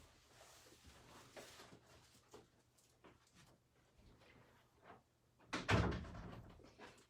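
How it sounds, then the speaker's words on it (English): A door in a snowy-country home is pushed shut near the end, one loud thump standing out after quieter household shuffling and faint voices. "Please close that door."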